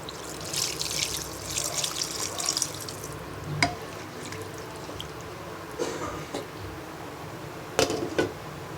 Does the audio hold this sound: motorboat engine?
no